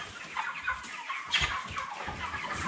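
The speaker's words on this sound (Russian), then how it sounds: "Вот смотрите, вот здоровая курица." Several broiler chickens cluck and murmur continuously at close range, with brief sharper squawks rising above the steady hen chatter.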